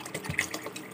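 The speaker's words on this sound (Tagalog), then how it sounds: "nalagyan natin ng tubig para lumambot" Mineral water being poured into a cooking pot makes a steady splashing, trickling flow, close and continuous, with no talk over it.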